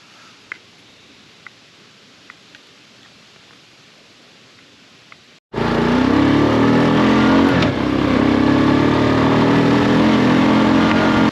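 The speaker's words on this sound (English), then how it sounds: "The ATV's running good now" A freshly cleaned-carburetor ATV engine kicks on abruptly after faint ticking, then runs loud and close with a steady rough idle that rises briefly in a rev.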